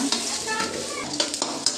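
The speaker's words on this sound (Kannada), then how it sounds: "ನೋಡಿ ಚೆನ್ನಾಗಿ ಫ್ರೈ ಆಗ್ತಾ ಉಂಟು" Sliced onion and curry leaves sizzle in hot oil in a pan for a Mangalore-style chicken curry, a close, steady frying hiss broken by a few quick spatula clicks as they are stirred.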